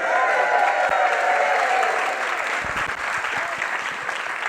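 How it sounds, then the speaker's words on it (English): An audience claps and cheers loudly, a dense burst of applause that gradually thins out toward the end. "Give it up for Marky Sparky!"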